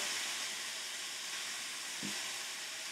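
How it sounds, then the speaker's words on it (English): Ground beef sears in a hot pan for a spaghetti bolognese sauce, a steady close sizzle and hiss with one brief louder crackle near the end. "so it's going to get a good sear on it"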